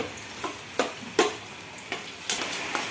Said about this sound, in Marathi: खवा भाजून घेऊया।